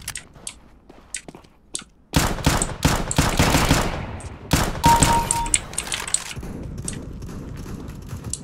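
Gunfire in a video game, including a wallbang shot fired through a wall, arrives as rapid bursts of loud cracks after scattered quieter clicks, then fades into lingering reverberant noise.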